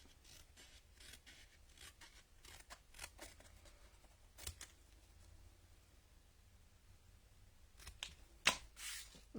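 Paper is trimmed into a banner during card stamping with a paper trimmer, giving a series of quiet, close cutting and sliding strokes with faint rubs, the loudest near the end.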